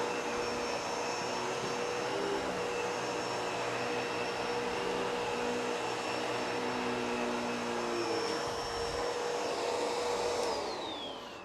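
A Bissell Pet Hair Eraser vacuum cleaner drones steadily and loudly throughout an extreme pet hair test, a constant whine with a slight pitch shift as it winds down near the end.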